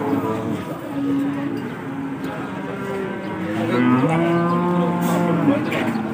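A cow from Blora's Pon market lows in long, drawn-out moos, one rising partway through, fairly close against a busy outdoor background of livestock and murmuring people.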